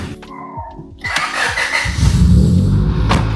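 A Honda Civic engine starting at close range after an overnight rain: a short cranking whir, then the engine catches and settles into a loud, steady idle.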